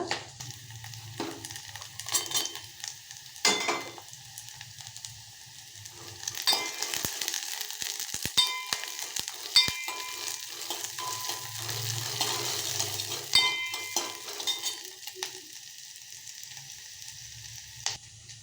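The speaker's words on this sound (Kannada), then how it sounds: "ಇದನ್ನು ಇವಾಗ ಈರುಳ್ಳಿ ಬೆಳ್ಳುಳ್ಳಿ ಜೊತೆ ಹಾಕಿ ಫ್ರೈ ಮಾಡ್ಕೊಳ್ಳೋಣ" Green chillies sizzling with onion and garlic in hot oil for a bajji saaru, a crackling fry with intermittent spatula clinks and scrapes against the pan throughout.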